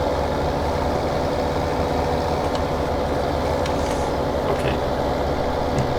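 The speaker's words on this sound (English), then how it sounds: "I think the look and the sound of the tractor is one of the best I've ever seen" Case IH tractor engine idling in the Farming Simulator 17 game, a steady loud low rumble that stays constant throughout with no talk over it.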